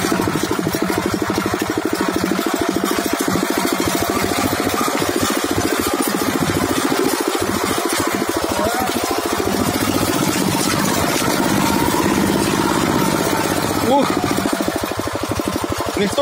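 An old 8 hp Zarya walk-behind tractor engine chugs steadily while driving over rough forest tracks, a loud, constant mid-pitched running drone with rattling, uneven texture throughout.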